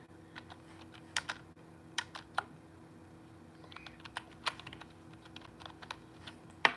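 Keystrokes on a computer keyboard tap out in short, irregular bursts, crisp and close, with brief pauses between runs over a quiet room background; no one speaks.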